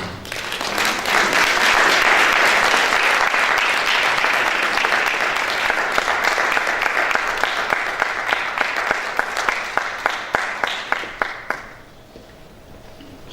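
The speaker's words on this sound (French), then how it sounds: "Je vous invite à applaudir." An audience applauds a speaker at a Congolese community event in Belgium, a full round of clapping that builds quickly, holds, then thins into a few scattered claps before stopping.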